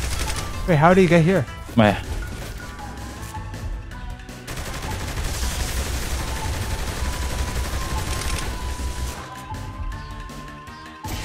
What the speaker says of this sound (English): I'm trying to shoot him.